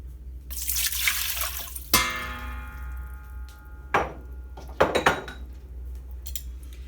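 Water pours and splashes briefly into a bowl of cut apples, followed by clinks and clatters of dishes and utensils being handled nearby.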